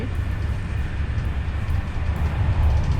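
A train at a Paris railway station platform gives off a steady, loud low rumble and hum throughout, with no voices heard.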